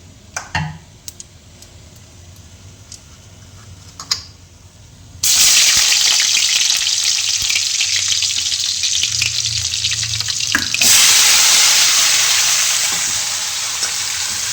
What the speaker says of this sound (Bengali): কড়াইতে তেল দিলাম, তেল দিয়ে পেঁয়াজ দিলাম, দিয়ে কাঁকরোলটা দিলাম আর কি